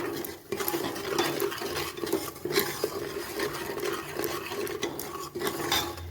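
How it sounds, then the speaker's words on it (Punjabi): A spoon stirs chickpea masala in a pan, giving steady close scraping and stirring under a soft sizzle, with no one talking. "ਇਹਨਾਂ ਨੂੰ ਚੰਗੀ ਤਰ੍ਹਾਂ ਮਿਕਸ ਕਰਕੇ ਮਸਾਲੇ ਨੂੰ ਪਕਾਵਾਂਗੇ"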